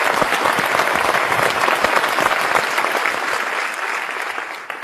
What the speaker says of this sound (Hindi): एक बार फिर तालियों से सलाम करते हैं किशन कुमार जी को और नवा शहर के लोगों को